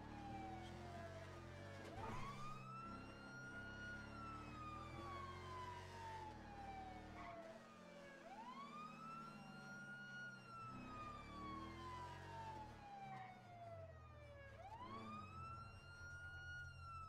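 A video game police siren wails continuously in rising and falling sweeps over a steady vehicle hum, loud and sustained throughout.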